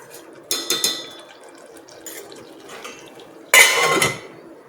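A lid goes onto a pan of Gujarati green pea curry with two clattering metallic clanks, first a short double knock and later a louder, longer rattle, over a low simmering background.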